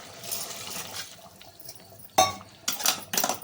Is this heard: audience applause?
no